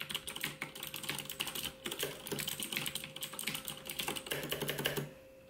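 Rapid, steady typing on a Razer keyboard, with dense clicky keystrokes in quick bursts at close range that stop abruptly near the end.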